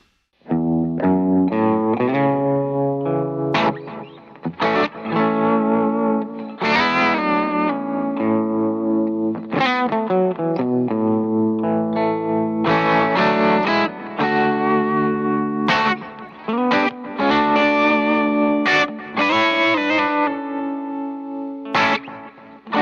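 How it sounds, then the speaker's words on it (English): An electric guitar plays through a stereo tremolo and delay setup on a MorningStar MC6 Pro controller rig, bright sustained chords and notes pulsing and repeating with echoing trails, played alone without talk. "So that has a stereo tremolo and some delay."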